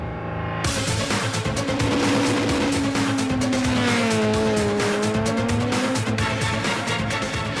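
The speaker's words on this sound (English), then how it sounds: "Polokwane Rally action gets underway with a Castrol Toyota Auris of Leroy Polter and Alvin Kutsia" Castrol Toyota Auris rally car on the Polokwane Rally, racing along dusty farm roads, its engine loud and close with rising and falling revs and tyre squeal throughout, no talk.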